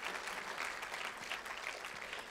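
Audience applause for Dr. Seth and Debbie Fawcett at a church gathering: a steady, even wash of many hands clapping, fairly distant and soft, continuing without a break.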